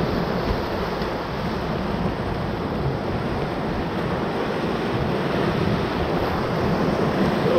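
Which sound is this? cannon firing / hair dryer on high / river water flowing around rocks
river water flowing around rocks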